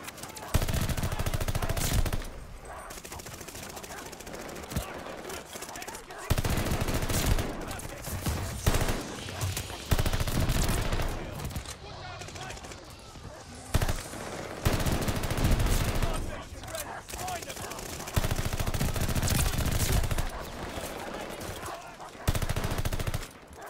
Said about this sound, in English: Just shooting into a wall and getting score streaks at this point.